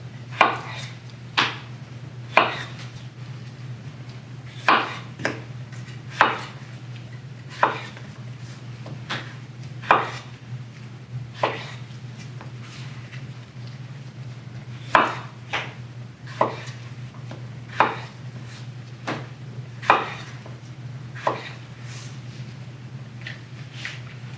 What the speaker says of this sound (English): If they're smaller potatoes, you can cut them into quarters.